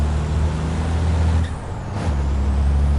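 A race truck in an FIA Euro truck racing video game rumbles with a loud, close engine drone, then gives a sharp hiss of air brakes midway before the engine note returns.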